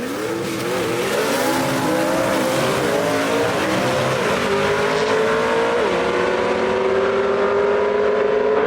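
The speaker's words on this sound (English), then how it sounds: "A lot of spin right there for Eddie Willis on the starting line." A Super Stock drag racing car spins its tires hard off the starting line at a dragstrip, a loud rising engine roar and tire howl climbing steadily in pitch, with no talk.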